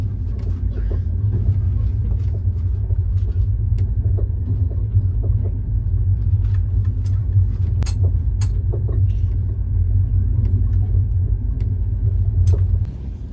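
Mandovi Express passenger train on its monsoon run along the Konkan route, a loud, steady low rumble of wheels and carriage that holds unbroken throughout, close and enveloping, with no clear talking.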